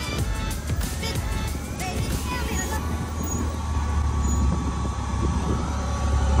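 Ultra4 off-road race trucks pre-run across a desert lake bed, their engines rumbling and building in loudness toward the end, with a broad roar of wind and dust noise.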